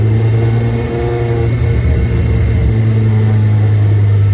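A VVL-powered Mazda 323 accelerates in second gear, its engine giving a loud, close, steady droning roar with a strong low hum that builds slightly in pitch throughout.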